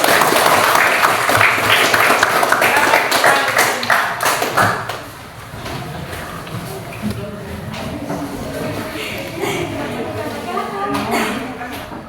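Clapping for a student group's presentation in a classroom-style session, a dense burst of hand claps at the start that thins out and fades after a few seconds, with voices murmuring underneath.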